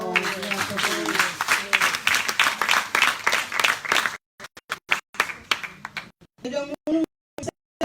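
Clapping from an audience at a formal address, dense and continuous for about four seconds, then breaking into scattered, sparser claps with gaps of silence and a few voices toward the end.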